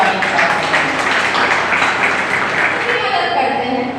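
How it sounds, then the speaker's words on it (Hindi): Sustained applause from an audience at an alumni meet, a steady dense wash of clapping that holds for several seconds and tapers slightly at the end. "जोरदार तालियों के साथ"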